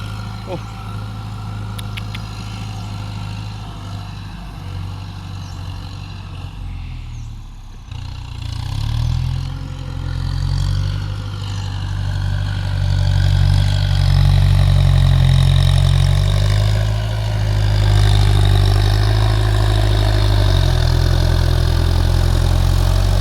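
A Kubota M108S tractor with an air-conditioned cab idles nearby with a deep, steady engine rumble that swells a little midway, heard alone without talk.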